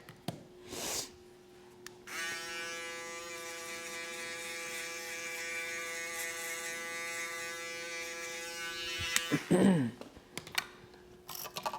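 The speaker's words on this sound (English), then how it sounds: "Now we'll follow that up with the shaver." Electric shaver buzzing at a barber's haircut: a steady, bright motor hum that switches on and runs evenly for several seconds, then cuts off with a brief scrape and a few clicks, close and alone without speech.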